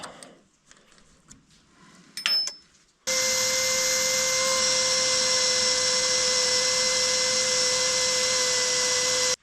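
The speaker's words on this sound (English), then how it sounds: "I'm also gonna draw a masonry bit. And this thing has like a carbide head on it." A carbide-tipped masonry bit drills into metal on a Kirovets tractor's 3-point hitch, a loud, steady, high-pitched grinding whine running unbroken for the last six seconds after a few faint clanks.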